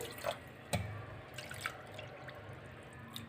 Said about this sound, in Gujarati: જેટલી દાળ હોય એના ત્રણ ગણું આપણે પાણી ઉમેરવાનું છે તો સૌથી પહેલાં આપણે એક કપ ઉમેરી દઈશું